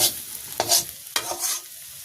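Onions frying and being stirred in a pan of oil in a Bangladeshi village kitchen, with two sharp scraping strokes over a steady sizzle, close and alone.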